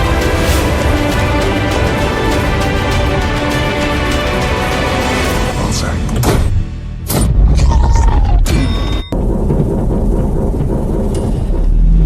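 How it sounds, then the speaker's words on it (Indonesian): Film battle scene where a German tank cannon shell hits a Soviet T-34 tank: a dense rumbling mechanical din of tank movement, then sharp heavy booms and metallic impacts, followed by a lower, quieter roar. "Tembakan Jerman berhasil mengenai tank dan menewaskan Vanya."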